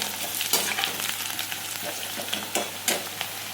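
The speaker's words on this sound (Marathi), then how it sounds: "शेंगदाणे झाल्यानंतर त्याच्यामध्ये मोहरी नंतर जिरं टाकलं, त्यानंतर मिरची, कांदा आणि कढीपत्ता टाकला आणि हे सगळं परतून घेतलं" Peanuts, mustard seeds, cumin, chili, onion and curry leaves frying in oil, a continuous bright crackling sizzle with periodic spatula stirs scraping through it, close and steady.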